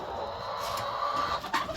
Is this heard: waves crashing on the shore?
no